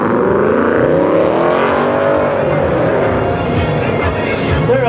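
Loud Ford Mustangs rev and drive out of a car show one after another, a dense, rumbling roar of several engines close by. Faint voices can be heard under the noise.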